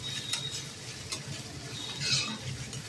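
Chopped onions sautéing in a pan for a bean dish, a quiet, even sizzle broken by soft scraping strokes of stirring, with no voices over it.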